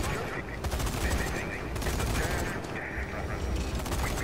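Zombie Army 4 video game gunfire while shooting zombies, a dense continuous clatter of shots and in-game sounds throughout, with someone talking over it.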